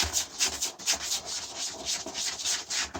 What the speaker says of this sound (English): The more you're scrubbing the toilet, the more you're scrubbing your brush.